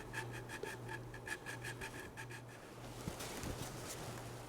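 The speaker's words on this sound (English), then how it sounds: "Our tiny jeweler's file can be used in the gap on either side of the mounting hole at the aft end of each booster" A tiny jeweler's file rasps against a model rocket booster in quick, evenly spaced strokes, a faint close scratching that becomes rougher and denser toward the end.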